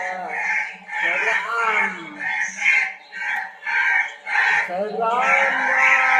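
A crow-call ringtone plays loud and close, a series of harsh, rasping caws in repeated bursts with brief gaps, and a voice speaks briefly over it.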